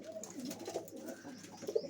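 A female pigeon coos close by, a soft, low, repeated burbling call running through the short moment with a couple of stronger pulses near the end.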